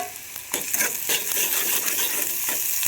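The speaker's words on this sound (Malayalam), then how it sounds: "എണ്ണ നന്നായി ചൂടായി വരുന്ന സമയത്ത് നമുക്കിതിലേക്ക് സവാള ചേർത്ത് കൊടുക്കാം" Onions dropped into hot oil in a pan, a bright crackling sizzle that flares up and holds steady with occasional utensil clinks, close and fairly loud.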